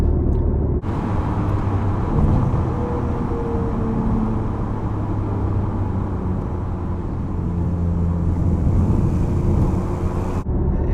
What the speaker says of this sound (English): If I put it back into comfort now, you'll hear the valve shuts and the engine noise is minimised.